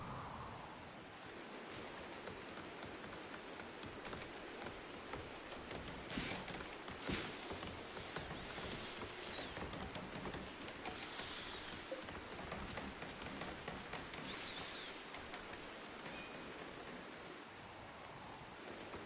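Rain falls in the video game RimWorld, a soft, continuous hiss that stays faint and even throughout, with no voices.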